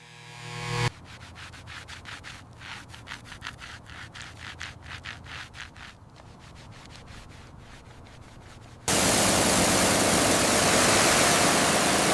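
Oxidized paint on an old Rolls-Royce is polished with rapid, rhythmic rubbing and scrubbing strokes at close range. A loud, steady hiss of machine noise then takes over.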